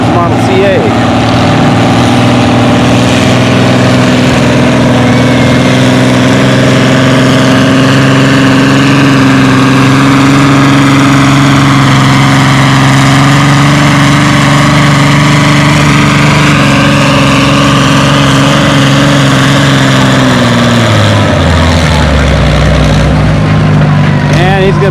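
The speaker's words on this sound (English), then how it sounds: "Small sled, we got my brother Eric on Itty Bitty and Al Chalmers Model CA." An Allis-Chalmers Model CA tractor strains hard pulling a small sled at a tractor pull, its engine droning loud and steady for about twenty seconds before dropping off as it backs out of the throttle near the end.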